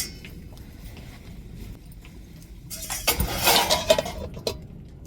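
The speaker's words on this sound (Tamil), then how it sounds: "இப்போ நல்லா மூடி விட்டுருவோம் அப்படியே தட்டை போட்டு" After a quiet stretch, a plate is set over a pot of cooking drumsticks and onions as a lid, giving a short run of metallic clinks and rattles against the rim.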